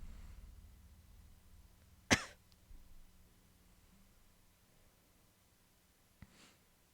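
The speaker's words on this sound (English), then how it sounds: "Don't cough like that?" A single sharp cough stands out against a faint, quiet background, followed a few seconds later by a softer, briefer throat sound.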